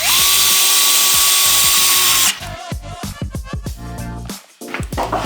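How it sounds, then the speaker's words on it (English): A power drill whines steadily at high speed, then cuts to a series of short bursts and pulses as it drives screws, loud and close. "we're gonna switch over to an automatic drill"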